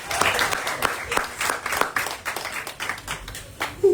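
Indoor crowd applause for a volleyball coach at a parish season kick-off show, a dense burst of clapping that runs for several seconds, fairly close and steady, then thins near the end as a voice starts in.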